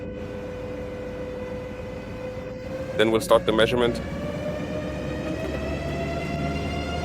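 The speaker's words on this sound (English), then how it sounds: "Now you can clearly hear the turbo pressure gradually building up as the process continues." A Scania S650 truck with a 16.4-litre DC16 V8 of 650 hp runs on a dyno under brake load as turbo pressure builds: a steady, droning engine tone continues throughout while someone speaks briefly midway.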